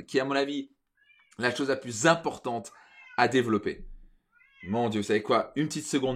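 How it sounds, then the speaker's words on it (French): A house cat meows loudly and repeatedly, its cries overlapping a man's French speech during an indoor live stream. "mon chat est en train de miauler comme un fou"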